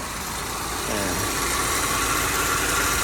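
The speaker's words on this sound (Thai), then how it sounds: "มีเสียงเครื่องยนต์นะครับ เสียงเครื่องยนต์" A Subaru XV 2.0i-Sport idles with a steady mid-pitched hum and faint mechanical whir, close and constant, rising slightly in level after the first second, with no voices.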